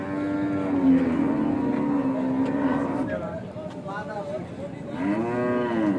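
A cow moos loudly and close by at a busy cattle market in Bangladesh during the Qurbani season. Two long, drawn-out lows rise over the ongoing chatter of people talking nearby.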